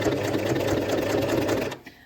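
A sewing machine stitches the short side of a towel-fabric headband from the right side, running in a steady continuous whir for most of the stretch before stopping abruptly near the end.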